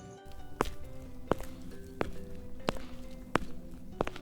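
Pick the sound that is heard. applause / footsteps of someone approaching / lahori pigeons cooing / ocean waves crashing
footsteps of someone approaching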